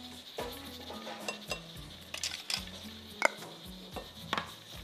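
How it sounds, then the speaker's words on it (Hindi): A spoon stirring carrot bread batter with baking powder in a bowl, soft repeated scraping and clinking strokes, close and fairly quiet, over light background music. "इसको आप अच्छी तरह मिक्स कर लीजिए।"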